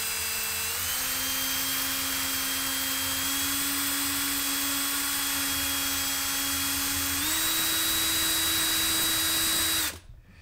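A power drill spins a brass tube to sharpen its edge for cutting foam popper plugs, a steady whine holding one pitch for about seven seconds, then stepping slightly higher before stopping abruptly near the end.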